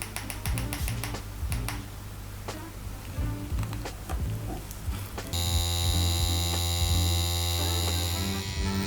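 A rotary tattoo machine fitted with a 15 soft edge Magnum needle hums steadily in a shading session, preceded by light clicks and taps, the machine's buzz taking over for the final few seconds.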